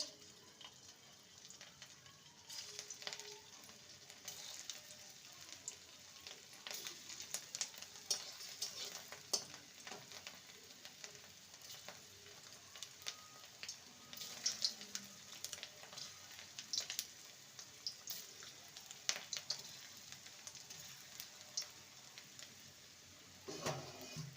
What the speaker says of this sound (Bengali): কড়াইতে সর্ষের তেল দিয়ে দিয়েছি এবার কাঁকরোলের কোপ্তাগুলোকে ভেজে নেব